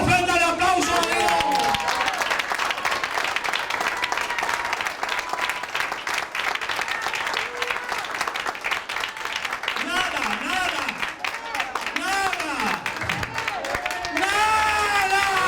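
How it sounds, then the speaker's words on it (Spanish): A church congregation applauds as an offering to God during an evangelistic campaign service in Sacramento, California: steady, dense clapping throughout, with raised voices ringing over it. "Te ofrenda el aplauso a Dios."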